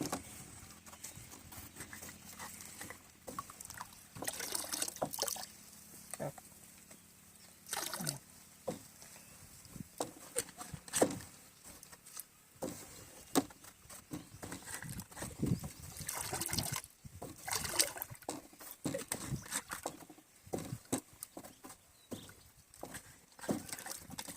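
Biodynamic preparation liquids, half bottles of BD 502 to 505, are poured onto a compost heap on a farm, giving intermittent splashy trickling bursts close by with quiet gaps between them.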